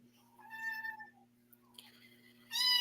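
A vocal cat meows a few times, with one drawn-out meow early and a louder one at the end, over a steady low hum in a quiet indoor room.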